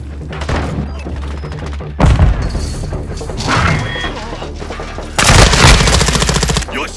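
Rapid automatic gunfire from Call of Duty: Modern Warfare II multiplayer, loud bursts and booms coming in waves, with voices calling out over the shooting.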